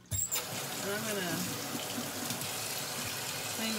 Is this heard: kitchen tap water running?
yes